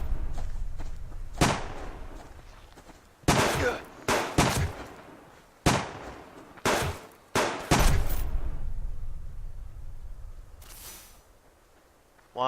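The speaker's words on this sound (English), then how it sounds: "Oh, he's shooting us again." Gunfire from hunters in a video game: about eight loud, sharp single shots at irregular intervals, each ringing briefly, with a quieter rumble and a faint later crack. Voices are heard now and then.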